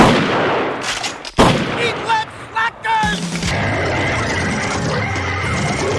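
Gunfire rings out in a scene from the science-fiction TV series Primeval, with a few sharp, loud shots cutting through shrill animal-like cries and rumbling action noise.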